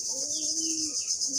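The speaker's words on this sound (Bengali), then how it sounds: "দেখেন কত সুন্দর, কতগুলো কবুতর সব আবার উড়ে কাছে যাচ্ছে।" Domestic pigeons on a backyard pigeon farm give a low, soft coo that rises and falls over a steady background hiss, close by and fairly quiet.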